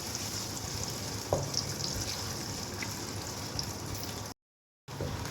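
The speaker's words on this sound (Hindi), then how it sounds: "वो इसमें शामिल करके प्याज को करेंगे लाइट ब्राउन" Chopped onions hiss and crackle steadily in hot oil, with a faint clink from stirring. The sizzle is close and continuous, briefly cut off near the end, and no one talks.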